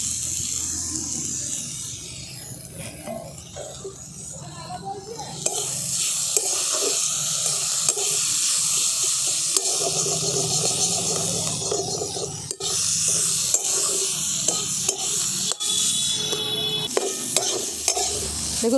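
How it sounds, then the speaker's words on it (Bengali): A spoon stirring a filling in a pan as its water cooks off, with steady close scraping over a constant sizzle that grows louder partway through, plus occasional sharp knocks against the pan. "সেই জলটা শুকনো হওয়া পর্যন্ত আমি এইভাবে নেড়ে নেব।"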